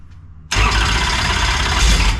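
A 438 cubic inch wide-bore dirt late model race engine fires up abruptly after a moment of quiet and settles into a loud, rough, continuous roar close by.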